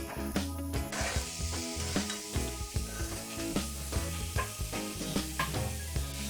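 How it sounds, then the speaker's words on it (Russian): Loud, steady sizzling of mushrooms frying in vegetable oil in a pan, with occasional clinks and scrapes of stirring throughout. "Капнем на сковородку немного растительного масла и высыпем грибы."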